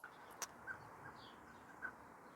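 Blackbirds give a few brief, faint calls at dawn in a garden, scattered single notes over a quiet outdoor background with no voices.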